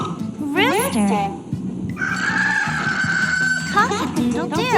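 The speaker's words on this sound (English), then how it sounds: "A rooster makes a cock-a-doodle-doo sound." A rooster crows a loud, drawn-out cock-a-doodle-doo for about two seconds in the middle, set between bursts of a narrator's voice in an English vocabulary lesson.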